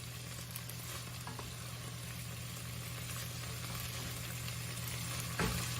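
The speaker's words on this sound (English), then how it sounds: "It's very fine, so believe me, the garlic is getting fried." Finely minced garlic and tomato paste sizzle steadily in a hot pan, giving a soft, continuous frying hiss with a few faint clinks of stirring.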